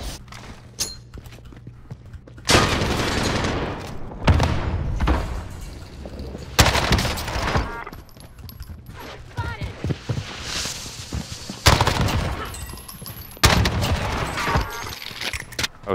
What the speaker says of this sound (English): Oh shit, I just got shot at from the northeast.